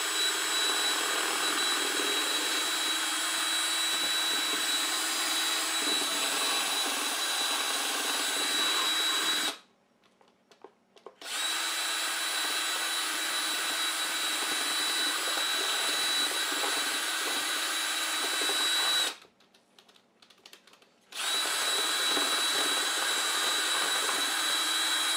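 A power mixer stirring fossil gray resin with mica powder for casting pen blanks gives off a loud, steady high whine that stops twice for brief pauses before starting again.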